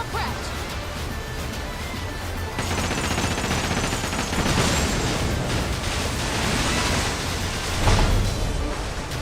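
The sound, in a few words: ship cannons firing in pirate video game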